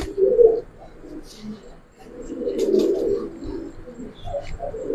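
Giribaz and coloured pigeons coo close by in soft, repeated, throaty calls, with other low bird sounds and faint voices in the background.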